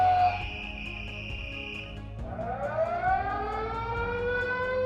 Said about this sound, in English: sirens like that